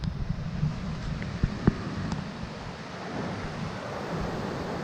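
Loud, steady rushing roar of whitewater rapids at Crooked Chute on the Petawawa River, a broad continuous wash heard from a campsite beside the river, with no voices over it.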